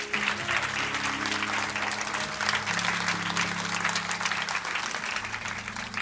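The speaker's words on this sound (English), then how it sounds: "Give them a hand clap, church." A church congregation claps steadily for prayer counselors in London, Ontario, dense applause holding through the whole stretch, with a sustained organ or keyboard tone beneath it.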